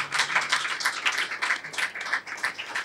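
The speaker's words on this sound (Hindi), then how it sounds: "ऐसे अबदी चश्मे के लिए हम तालियां बजाएं खुदावंद यीशु मसीह के लिए।" Dense, steady applause from a church congregation, many hands clapping together at once with no voices, filling the whole moment.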